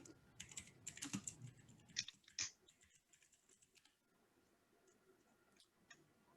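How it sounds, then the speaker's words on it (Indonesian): Quick keystrokes on a computer keyboard, close and fairly quiet, in irregular bursts that thin out into a few scattered taps. "Coba saya ketik aja."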